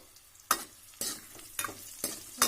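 Mustard seeds and dried red chillies hitting hot oil while preparing a bitter gourd tamarind curry, crackling sizzle with sharp stirring or popping bursts about every half second, close up and without talk.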